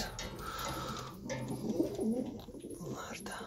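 Turkish tumbler pigeons coo softly inside their loft, a few low, rolling calls clustered in the middle of the clip amid background noise.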